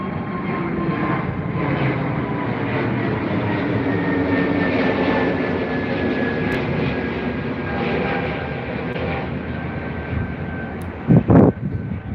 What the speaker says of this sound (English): Our little Irish friends. It's Aer Lingus.